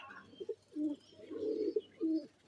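A rescued dove chick coos softly in short repeated phrases, four or five low throaty calls with brief gaps, close by and alone.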